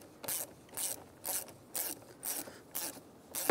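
A ratchet wrench tightening the positive battery terminal on a 1996-2002 Toyota 4Runner, rhythmic bursts of clicking pawl strokes repeating about every half second, close and clear with no talking.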